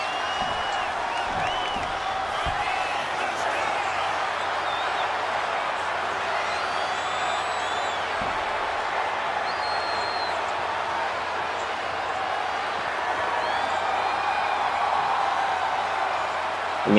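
A large arena crowd in the WWE 2K24 wrestling video game roars in a steady, dense wash of cheering and whoops that holds throughout and swells slightly near the end, while commentators talk over it.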